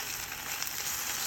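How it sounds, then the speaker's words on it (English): Ham sizzles in a frying pan for a sandwich, a close, steady crackling hiss with no voices. "You see how you hear like the sizzling?"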